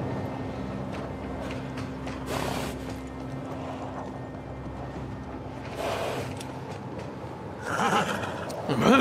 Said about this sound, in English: Can't leave the horses in here.